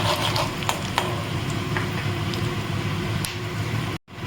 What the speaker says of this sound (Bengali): তেলটা গরম হয়ে গেছে, ফোড়ন দিলাম, আমি 2টো তেজপাতাও দিয়েছি।